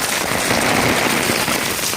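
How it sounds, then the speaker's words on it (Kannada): Heavy monsoon rain pours steadily in the Malnad region, a dense, even hiss with no breaks, close and loud throughout. "ಮಳೆ ಸರಿಯಾಗಿ ಬೀಳ್ತಾ ಇದೆ ಈಗ ನಾವು ಮಲ್ನಾಡಿನಲ್ಲಿ"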